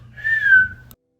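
A single short whistled note, clear and close, rising slightly then gliding down before stopping abruptly, with a faint low hum beneath.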